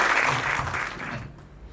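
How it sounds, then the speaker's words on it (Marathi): Audience applauding a stand-up comedian as he is called onstage at a Marathi talent show, a soft broad wash of clapping that fades away within a couple of seconds. "एकदा मुअज्जम साठी जोरदार टाळ्या."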